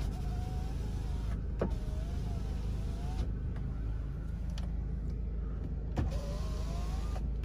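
Power windows and power mirrors on an imported Korean automatic car with a 1.6 petrol engine, whirring up and down in several repeated electric motor runs, close and clear over a steady low hum.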